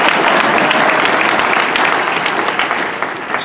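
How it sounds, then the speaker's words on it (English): Thick, loud applause from a large convention keynote audience, many hands clapping continuously and close, tapering slightly toward the end. "you can clap for having stuff work"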